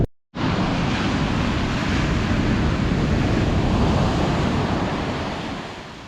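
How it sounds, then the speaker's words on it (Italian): Rough sea waves break on a beach on a blustery early-February day: a steady, loud roar of surf mixed with wind that starts abruptly after a brief silence, then slowly eases toward the end. No voices. "Mare un po' agitato oggi."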